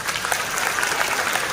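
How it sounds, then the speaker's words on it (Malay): A seated audience at a product presentation gives a short round of applause, a dense, even patter of many hands clapping close by with no talking. "So, satu tepukan kepada Eastspring."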